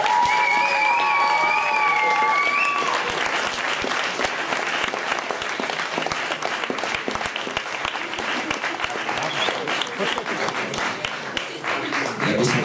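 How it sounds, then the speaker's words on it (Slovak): Spectators at a night-race prize-giving in Zvolen break into long, strong applause for the winners, many hands clapping steadily for over ten seconds, with a voice briefly heard at the start. "A ešte jeden veľký potlesk pre víťazov."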